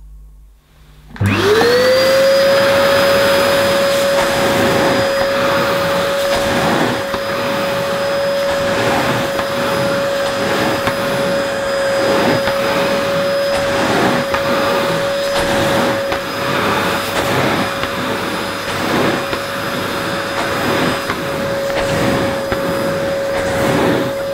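A Nilco S12 commercial tub-style vacuum cleaner switches on and runs with a loud, steady, high motor whine and rushing airflow, close and alone for over twenty seconds.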